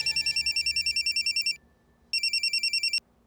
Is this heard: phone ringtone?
yes